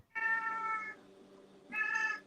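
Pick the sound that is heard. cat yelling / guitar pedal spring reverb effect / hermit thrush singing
cat yelling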